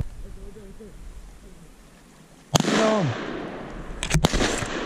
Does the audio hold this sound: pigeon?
no